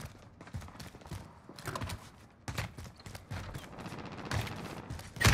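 Gunfire in Call of Duty: Modern Warfare, a string of sharp bursty shots and impacts of varying loudness amid busy game noise, ending in a loud close hit.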